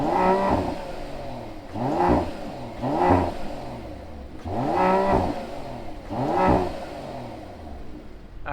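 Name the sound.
Mercedes AMG GLE 53 engine starting and revving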